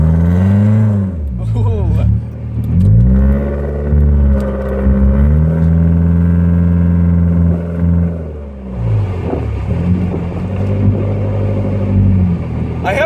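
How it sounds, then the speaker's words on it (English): A 1997 BMW Z3 with an automatic gearbox accelerates hard, its loud engine and exhaust droning and rising in pitch through repeated surges. The sound is close and heavy, and a voice exclaims briefly over it. "But this car is really loud."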